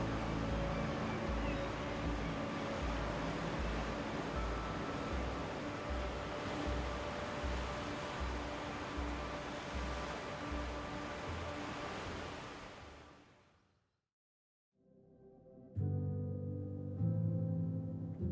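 Ocean waves rolling in on the wild Atlantic coast of Ireland, a steady loud broadband wash with rhythmic surges that fades to near silence before a fresh burst of surf returns.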